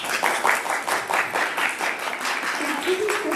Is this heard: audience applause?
yes